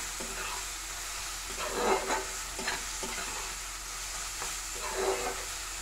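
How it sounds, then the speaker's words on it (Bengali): Onions fry in a pan for a fish do-piyaza, with a steady sizzle under repeated stirring scrapes, close and fairly quiet, no voices. "প্রথমে পেঁয়াজগুলোকে সুন্দর করে একটু ভেজে নেবে, যতক্ষণ পর্যন্ত না একটু কালার চেঞ্জ হচ্ছে"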